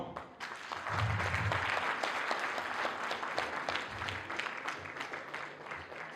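A crowd at a community celebration gathering in Udaipur applauds warmly for Dr. Om Sahu, dense steady clapping that swells after the first moment and carries on evenly, with a low voice or hum underneath early.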